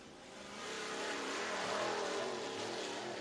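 Race cars at Southern Raceway in Milton, Florida, including the 90 machine, engines swelling into a loud, sustained revving roar as they run the track under caution behind a lead car, with no talk.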